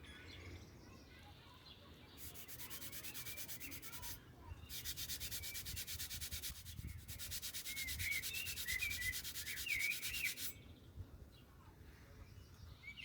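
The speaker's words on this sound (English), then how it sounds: "I took out the trusty sanding paper and gave the blade a tiny" Rhythmic scratchy rubbing of sandpaper polishing a rusty metal blade in several bursts, with faint birds chirping in the background.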